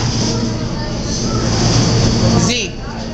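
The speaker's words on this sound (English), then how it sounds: "I think the train's coming the other way." A New York City subway train rumbles steadily and loudly with a low hum and tonal whine, then drops off near the end.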